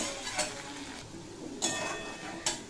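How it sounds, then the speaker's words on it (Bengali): Ginger, garlic and green chilli fry in a pan for chicken ghugni, a quiet sizzle broken by three sharp scrapes and clinks of a spatula against metal. "এই আদা রসুন আর কাঁচা লঙ্কাটা একটু ভেজে নেব যাতে কাঁচা গন্ধটা চলে যায়"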